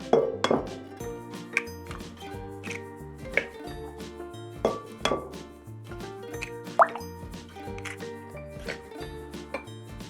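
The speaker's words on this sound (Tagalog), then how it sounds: "combine the wet ingredients, milk, melted butter, eggs" Wet ingredients for ube cheese pandesal, milk, melted butter and eggs, splash and plop into a mixing bowl, with repeated clinks of glass or utensils and soft drips in an irregular rhythm, close and fairly clear.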